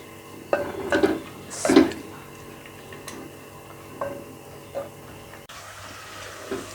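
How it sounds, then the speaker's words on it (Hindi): Onions frying lightly in a pan while being stirred for Punjabi-style chicken arvi gosht, with a few clinks and scrapes of a spoon against the pan over a faint sizzle. "हम इन्हें हल्का सा फ्राई करेंगे।"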